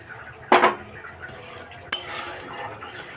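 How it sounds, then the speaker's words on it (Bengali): Fried prawns tipped into a pot of sour curry, giving a sudden loud clatter of utensil against metal, then a second sharp knock about a second and a half later, followed by quieter stirring and scraping. "এবার আমি যে চিংড়ি মাছটা ভেজে রেখেছিলাম সেটা দিয়ে দিচ্ছি।"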